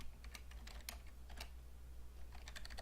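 Typing on a computer keyboard while entering HTML code, soft clicking keystrokes in quick irregular bursts with a short pause, faint and close over a low steady hum, no voices.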